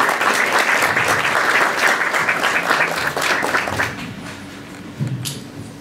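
An audience at a public panel discussion about the destruction of public spaces breaks into dense, sustained applause. It tapers off after a few seconds, leaving scattered claps and low room chatter.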